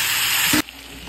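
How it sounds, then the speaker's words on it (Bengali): Chicken pieces dropped into hot spiced masala in a pan, a loud burst of sizzling frying that cuts off abruptly after about half a second, leaving a quieter low hiss. "তারপর মশলাটাকে ভালোভাবে নেড়ে চেড়ে দেন দিয়ে দিলাম চিকেনগুলো"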